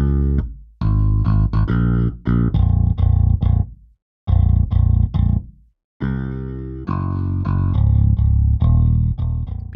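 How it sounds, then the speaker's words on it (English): A bass guitar plays a riff of separate, thick notes through Studio One Ampire's emulation of a bass amp head and 8x10 speaker cabinet, with short gaps between phrases and a full, warm tone. "an emulation of the bass amp head, and it's going into the big 8x10 bass speaker cabinet"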